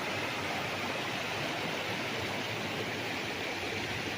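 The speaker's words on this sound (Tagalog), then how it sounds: "tunog ng tubig na umaagos eh." A river beside a roadside resort in Liliw, Laguna flows with a steady, broad rushing hiss, continuous and fairly close, with no voices over it.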